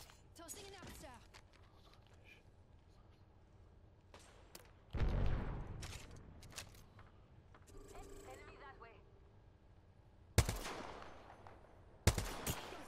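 Gunfire in the video game Apex Legends: scattered sharp shots and short bursts over several seconds, with a few loud blasts standing out near the end, while players talk over it.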